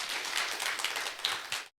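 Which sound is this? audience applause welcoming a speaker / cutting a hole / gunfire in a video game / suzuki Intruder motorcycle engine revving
audience applause welcoming a speaker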